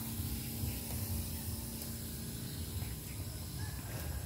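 A garden sprayer mists plants behind a house in a continuous soft hiss, steady and fairly quiet, with a faint low hum underneath and no voices.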